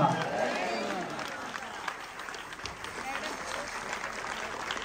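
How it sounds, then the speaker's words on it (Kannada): An audience rises for a standing ovation honouring a Haridasa kirtan singer at a devotional film audio launch, a broad sustained wash of applause and crowd noise that slowly eases, with voices in the mix. "ಅವರಿಗೆ ನಾವೆಲ್ಲರೂ ಎದ್ದು ನಿಂತು ಜೋರಾದ ಚಪ್ಪಾಳೆಯೊಂದಿಗೆ ಅಭಿನಂದನೆಗಳನ್ನು ಸಲ್ಲಿಸೋಣ"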